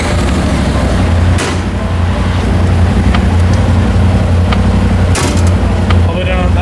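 A Polaris RZR Turbo UTV with a newly installed carrier bearing on a short test drive, a steady low engine drone and driveline rumble throughout, with brief rattles and clunks from the chassis.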